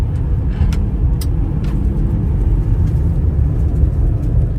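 A car on the road in a small Australian town: a steady, loud, low rumble of engine and tyres throughout, with no talk.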